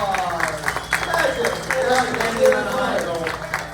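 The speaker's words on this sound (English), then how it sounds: "Give him a round of applause" An audience at an improv comedy show gives a performer a round of applause, moderate clapping mixed with crowd murmur and voices talking over it throughout.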